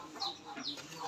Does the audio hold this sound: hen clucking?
yes